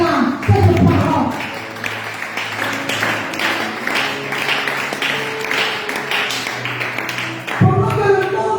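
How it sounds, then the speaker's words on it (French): A church congregation applauding together, a sustained, fairly loud wash of many hands clapping that runs for several seconds and rises again near the end. "Je veux que tu acclames cette parole."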